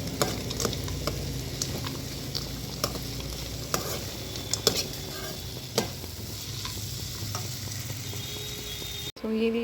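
Poha cooking in a pan with potatoes and peanuts, with steady frying sizzle and repeated spatula stirring scrapes, close and moderately loud, with no talking.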